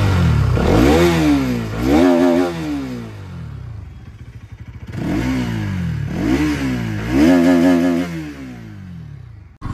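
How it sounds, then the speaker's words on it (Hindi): A 2024 Bajaj Pulsar NS200 motorcycle exhaust revs up and settles twice, loud and close, with rising and falling engine pitch and a throaty idle between the revs. "अभी मैं आपको इसका एग्जॉस्ट नोट सुना देता हूँ"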